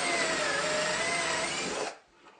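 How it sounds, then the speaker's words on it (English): A power drill bores small reference holes through wood, with a scrap wood block serving as angle guide and depth stop; one steady loud whine runs close-up for about two seconds, then cuts off. "The really small holes I'm drilling through are just as a reference for where to put the alignment pins."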